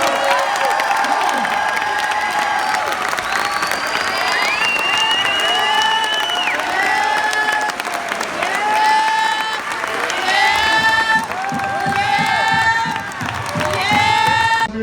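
A school crowd cheers and shouts for a 7-3 football team heading to the playoffs, a dense, loud roar of voices with whoops and rising yells that swells and holds for the whole stretch.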